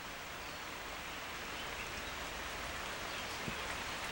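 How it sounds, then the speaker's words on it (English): Steady rain falling after hours of downpour, a continuous soft hiss of drops with an even, unbroken texture throughout, fairly faint and with no voices. "it has rained for 3 hours straight"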